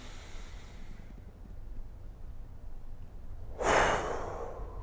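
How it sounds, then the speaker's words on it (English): A single deep exhale during a home golf fitness routine, a soft breathy rush close to the mic near the end of an otherwise quiet stretch. "And a deep breath out."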